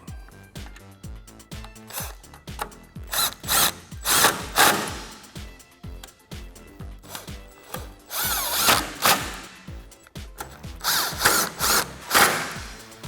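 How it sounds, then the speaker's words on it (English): A 10mm socket on a power driver tightens the headlight bolts on a Jeep Gladiator JT, several short whirring bursts close by, each ending in a brief ratcheting buzz, with pauses between them. "now we're going to tighten these down with a 10mm socket"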